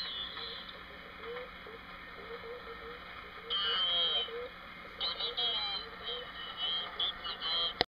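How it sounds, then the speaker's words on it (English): A WS19 military radio set receiving broad, crackling interference and warbling whistles from sideband stations, with someone talking throughout over the noisy reception. "you can hear lots of interference coming in on the side from sideband stations"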